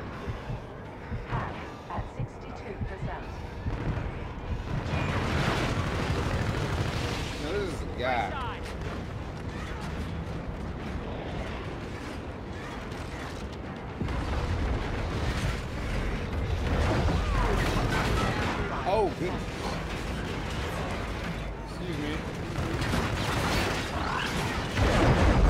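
Heavy rumbling blasts and clattering battle noise from Call of Duty Infinite Warfare grenade explosions, dense and continuous with swelling booms, while a player talks over it.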